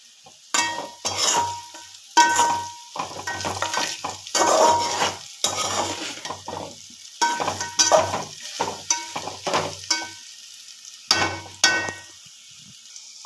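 Okra curry frying in a pan with spices as it is stirred, loud bursts of sizzling and spoon scrapes coming in irregular waves between brief quieter pauses, close up with no talking.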